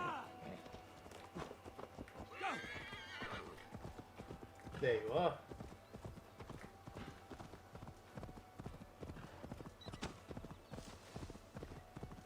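Hooves clip-clop in a steady running rhythm with a horse whinnying partway through in Assassin's Creed Valhalla video game, while a person speaks briefly over the sounds.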